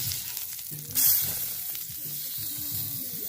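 Food sizzling in a frying pan just after being flipped, with sesame seeds added, while cooking in a campervan; a close, steady hiss with a sharp burst of spatter about a second in and faint utensil scrapes.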